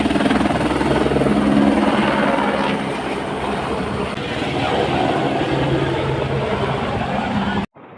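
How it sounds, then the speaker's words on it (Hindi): Helicopter taking off from a helipad near Kedarnath temple in the Himalayas, its loud, steady rotor and engine roar filling the whole span before cutting off abruptly at the end. "मैंने अपनी लाइफ में फ़र्स्ट टाइम हेलीकॉप्टर को इतने पास से, इतने करीब से देखा है।"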